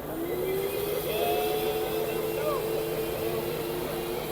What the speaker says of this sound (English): Here we're comparing a couple of 4-horsepower shop vacs.